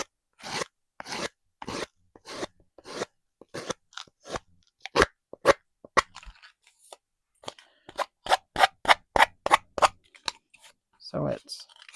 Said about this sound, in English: just sand the paper.